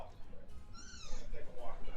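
A house cat meows in a few drawn-out, rising and falling cries, moderately close, while people talk over a card game in the background.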